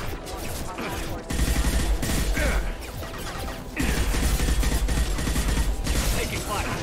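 Gunfire in Mass Effect 2 comes as dense rapid bursts of shots and impacts, loud and continuous with short breaks, mixed with other combat noise.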